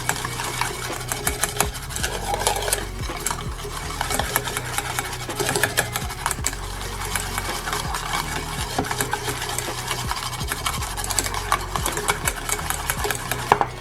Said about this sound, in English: it kind of just gotta keep whisking and whisking